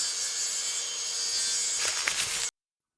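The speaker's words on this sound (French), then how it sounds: "Tracez la coupe, puis rectifiez à la scie circulaire." A circular saw trims a wooden floor panel to size, a steady high whine of the blade through wood for about two and a half seconds with rougher scraping near the end before cutting off abruptly.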